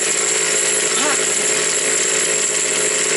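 A 3800 chainsaw idles while warming up, its engine giving a steady, loud, even drone with no throttle bursts for the full few seconds.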